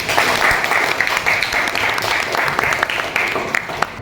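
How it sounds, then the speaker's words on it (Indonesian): A classroom of high school students breaks into applause, dense, loud clapping that carries steadily for several seconds nearby. "Beri aplaus, tepuk tangan buat."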